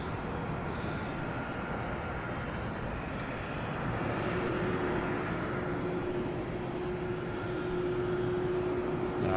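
A four-engine BAE aircraft flying downwind near Melbourne Airport at night, a steady distant engine roar with a faint droning tone that holds evenly and swells slightly louder midway.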